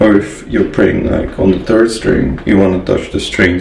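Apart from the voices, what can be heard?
No everyday noises stand out.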